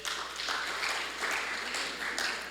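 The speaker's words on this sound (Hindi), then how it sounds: "क्यों ना जोरदार तालियों के द्वारा उनको धन्यवाद दें" Church service audience claps in a sustained, moderately loud round of applause, an even patter of many hands with slight swells.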